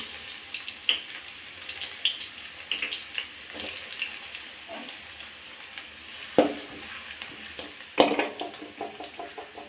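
Onions frying with mustard seeds in hot oil in a pan, a crackling sizzle with scattered pops and a couple of louder sharp bursts, no talking.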